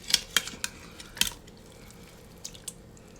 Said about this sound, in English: We're going to transfer our roast